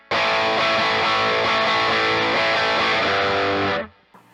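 A heavily distorted electric guitar plays a riff, a loud repeating grouping of an eighth note plus two sixteenths, then cuts off abruptly near the end.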